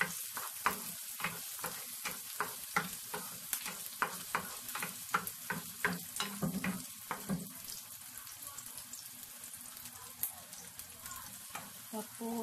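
Onion and garlic sauté in a pan with a steady, close sizzle, broken by repeated light scrapes and taps of stirring, fairly quiet overall.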